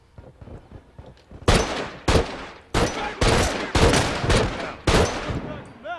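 Gunfire in The Last Of Us multiplayer, with faint clicks and footsteps giving way to six loud, sharp bursts of rapid shots, each separated by brief gaps, close and dominant.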